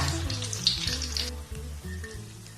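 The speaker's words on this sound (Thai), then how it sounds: "ไฟอย่าแรงนะคะค่อยๆ ทอดแป้งข้างในมันจะได้สุกด้วยค่ะ" Battered vegetarian mock pork deep-frying slowly in hot oil over moderate heat until golden: a steady, close crackling sizzle under a low tonal background, with no talk.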